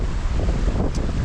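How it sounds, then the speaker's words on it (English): A river flows right beside a wild campsite in Donegal, a constant rushing wash of water mixed with gusty wind buffeting the microphone. "right beside the river and this big pool of water."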